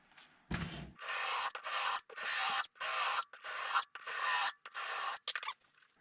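A rolling pin sander works over an ash and alder guitar body in repeated strokes of broadband rubbing and rasping, loud and close, separated by short pauses, with a brief lower burst near the start.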